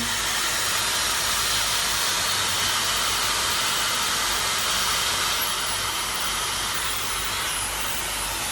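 A Dyson Supersonic hair dryer runs at its lowest speed, giving a steady, loud, airy hiss with a faint high whine that holds unchanged throughout.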